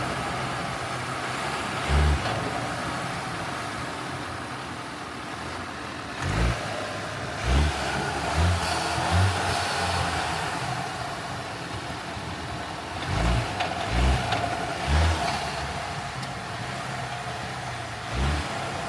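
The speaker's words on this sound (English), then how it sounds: "I'm gonna try to start the car, and you might gonna hear that noise when the engine jumping." A BMW X1 engine with about 12k miles runs at a steady idle. It is broken by repeated short low surges, like bumps in the revs, spaced irregularly through the stretch. No one talks.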